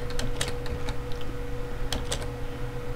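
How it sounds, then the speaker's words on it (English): Irregular bursts of computer keyboard typing: crisp clicks in quick clusters, with a short pause mid-way, heard close up over a steady electronic hum during a Minecraft parkour game, with no speech. "Sorry if you can hear my keyboard"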